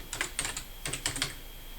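Several quick bursts of computer keyboard typing as a file name is entered, close and fairly quiet, with short pauses between clusters of keystrokes.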